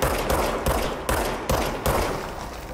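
Rapid gunfire in Control: four or five sharp bursts of shots fired in quick succession, loud and close, at a roughly even rhythm.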